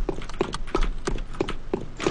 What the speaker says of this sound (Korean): 발소리가 왜 이렇게 커?